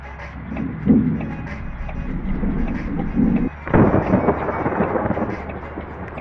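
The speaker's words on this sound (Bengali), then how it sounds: "বৃষ্টি নেমে গেল এত তাড়াতাড়ি," Rain and thunder in the Bus Simulator Indonesia video game, heavy rolling rumbles over a steady wash of rain, with a loud crash of thunder partway through.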